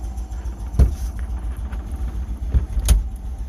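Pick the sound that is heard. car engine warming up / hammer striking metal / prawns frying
car engine warming up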